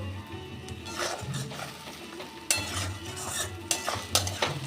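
Dry red chilli, black pepper, ginger, garlic and Kashmiri chilli powder go into fried onions in a pan for duck egg curry, with spoon scrapes, clinks and soft stirring over a low sizzle.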